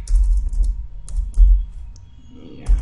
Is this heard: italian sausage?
no